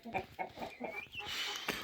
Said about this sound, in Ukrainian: бінтамки, цесар, молоді кури